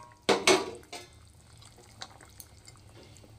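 Fried rohu fish and eggplant pieces drop into a simmering vegetable curry with two quick, close wet plops and clatters, followed by faint drips and small liquid sounds.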